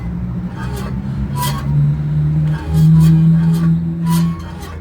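A Fiat Palio Fire driving with a noisy wheel, loud engine and road rumble under a droning tonal hum that rises and holds, broken by a few sharp knocks, with a voice speaking faintly at times.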